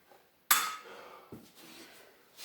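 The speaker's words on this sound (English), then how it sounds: "take this and put it in my magnetic tray" A steel engine bolt with a stud from an Oldsmobile 455 is dropped into a magnetic tray, landing with one sharp metallic clank and a ringing tail, then a softer second knock.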